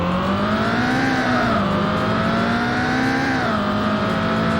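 Lamborghini Diablo SV engine in the PS1 game Need for Speed III: Hot Pursuit, a steady, buzzy synthetic drone whose pitch dips and rises slightly as the car holds speed, loud and continuous with no voices.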